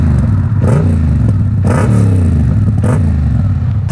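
A 2022 Yamaha MT-07 fitted with an Arrow Works exhaust rumbles loud and close at steady idle, with a few brief throttle blips swelling the deep, throaty note before it settles back.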